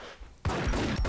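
Gunfire in the video game Max Payne: a quiet lead-in, then a loud burst of rapid shots with sharp repeated cracks close together, heard alone.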